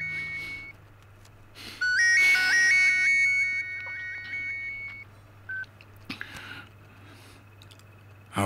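A mobile phone ringtone plays a bright melodic electronic tune in a quiet room, a pause and then a few short beeps, with no voices.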